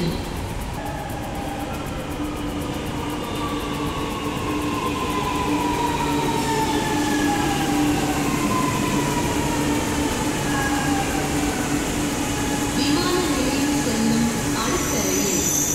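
A Chennai Metro train rumbles in with rising wheel squeal and a steady mechanical drone, loud and close, with faint voices underneath.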